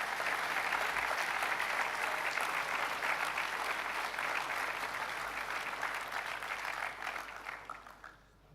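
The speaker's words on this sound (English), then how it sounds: "Give him a round of applause, please." Audience applause at a 2023 school assembly honouring College Dux Thomas Robinson, a sustained, dense wash of many hands clapping that holds steady before thinning and fading near the end.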